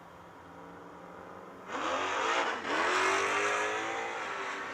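Two drag racing cars, a 14 Mustang and a 71 Chevelle, launch at a strip, a loud broadband engine roar bursting in partway through, dipping briefly, then surging again and holding through the end with no talk.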